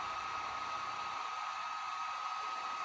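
A heat gun blows a steady, loud, hissing roar with a fixed whine as it shrinks heat shrink tubing on motorhome off-grid wiring, continuous throughout with no voices.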